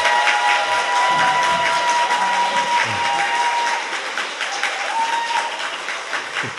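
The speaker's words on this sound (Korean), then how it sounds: "저희가 박수 시간이 있습니다" A studio audience on a Korean talk show claps steadily and loudly throughout, a dense continuous wash of applause that eases slightly toward the end.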